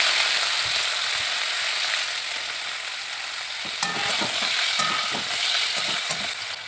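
Potatoes frying in hot oil in a wok, a dense continuous sizzle with scattered spatula scrapes and knocks as they are stirred.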